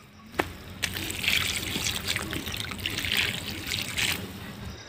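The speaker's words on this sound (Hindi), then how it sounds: "इसको पानी पटाते हैं" Water trickling and splashing steadily while a plant is being watered outdoors, with a few sharper drips and splashes at irregular moments.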